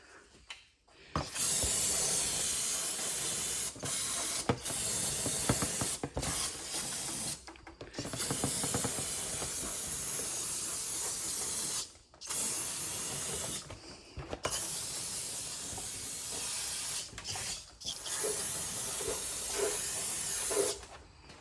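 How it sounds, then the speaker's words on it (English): Brake cleaner sprayed onto car parts of a Honda Fit, long steady aerosol hisses broken by short pauses, close and fairly loud throughout. "Now I just need to clean off the area with a brake cleaner"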